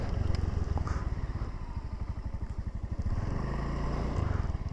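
A motorcycle engine putters with a rapid, pulsing throb as it rides along, steady and close, with wind noise and no talking.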